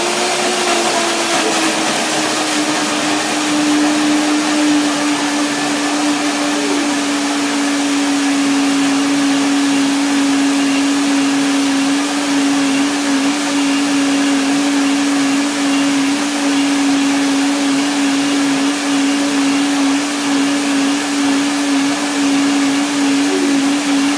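Blender whirring through sliced bananas for a vegan blueberry white chocolate pudding pie, a loud steady motor drone with a sustained hum that holds for the whole stretch, no talking.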